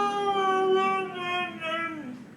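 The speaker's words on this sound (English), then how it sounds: "That is a dog." A Husky-type dog howls in a long, close, sustained tone lasting over two seconds, its pitch wavering and then sliding downward at the end.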